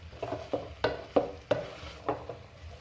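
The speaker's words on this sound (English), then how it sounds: "we have now added our okra and we are now going to incorporate it into our meat" Okra is stirred into meat in a pot: a run of distinct scraping, clattering strokes of a spoon against the pot, roughly one every half second, over a soft sizzle.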